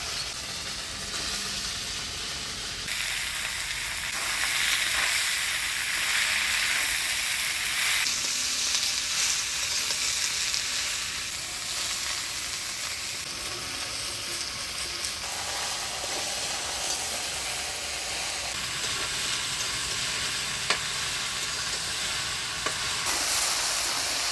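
Chopped bottle gourd fries in a hot pan with ground spice paste, dried red chillies, whole cumin and bay leaf, producing a steady, loud, close sizzle with occasional stirring scrapes that runs throughout without a break.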